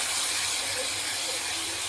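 Masala added to potatoes and young jackfruit frying in a pan, producing a loud, steady hissing sizzle that stays broad and unbroken throughout the short moment.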